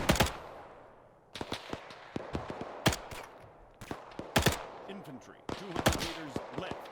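Gunfire in the Arma 3 WWII mod during a paratrooper battle against Soviets: sharp single rifle shots and short bursts spaced across the stretch, each crack followed by a brief echoing tail, with a quieter background between them.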